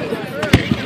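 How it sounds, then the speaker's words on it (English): A single July 4th firework bursts close overhead at a New Jersey shore display, a loud sharp boom with a short crackling tail, followed by a smaller pop against a steady crowd murmur. "It's not fireworks if it doesn't include burning embers."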